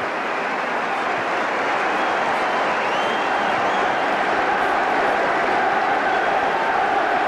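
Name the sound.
football crowd cheering and applauding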